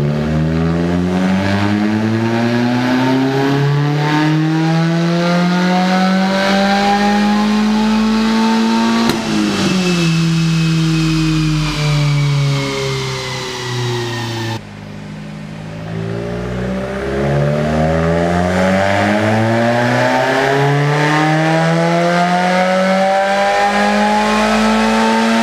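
A 2016 Subaru WRX runs on a dyno with its engine revving hard in two long climbing pulls toward redline, loud and close, with a brief drop and pause between the sweeps.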